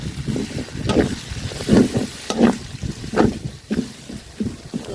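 Ground cumin, ginger and garlic paste frying with reddened onions in a pot for a potato chicken curry, a soft uneven sizzle with recurring stirring scrapes and bubbling pops at close range, no voices.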